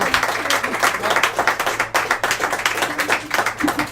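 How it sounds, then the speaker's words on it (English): A pub crowd at a traditional Irish music session gives a big round of applause, dense continuous clapping from many hands throughout. "What a huge big round of applause"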